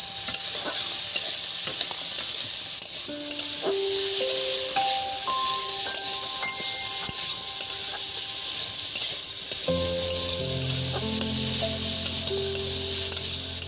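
Chopped carrot sizzling loudly in a pan while cooking jhal suji, a dense, continuous hiss with no talk, and tonal squeaks and scrapes of stirring rising over it throughout.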